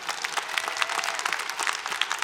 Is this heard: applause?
yes